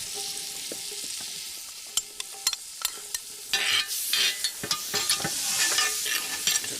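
Bacon sizzles and spits in a hot pan, a steady close crackle with sharp pops, intensifying as it is stirred and browns.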